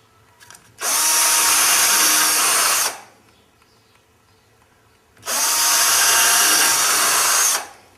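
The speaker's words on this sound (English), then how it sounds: "we drill pilot holes using our cordless drill again" A cordless drill bores pilot holes in wood clamped in a vise, giving two loud, steady whirring bursts of about two seconds each, separated by a quiet pause.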